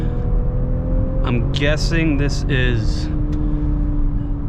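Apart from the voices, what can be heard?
BMW X5 straight-six turbo engine while driving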